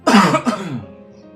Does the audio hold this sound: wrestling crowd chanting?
no